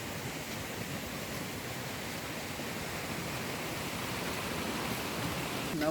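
Cascata delle Marmore waterfall in a mountain park in Italy, heard from a distance as a steady, even broadband rush with no pauses or talk.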